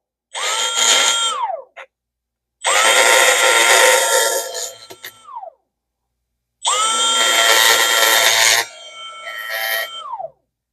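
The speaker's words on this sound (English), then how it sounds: "We're gonna grind this out right here." Power tool grinding on a Zebco Cardinal 3 fishing reel part at a workbench, heard as three loud, sustained whining bursts, each winding down at the end, separated by short pauses.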